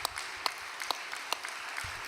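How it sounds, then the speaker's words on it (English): An audience at a church gathering applauds a sister, with dense, fairly distant clapping and a few sharper claps standing out at irregular moments, no voices heard. "Why don't we give her a big round of applause?"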